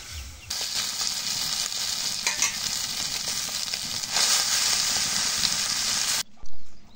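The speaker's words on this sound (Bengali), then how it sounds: "মশলাটা কষানি হয়ে গেছে, এখন মাংসটা দিই কষানি করুক।" Chicken meat being fried bhuna-style with spices in a pan, a loud continuous sizzle with occasional stirring scrapes, close up, ending abruptly.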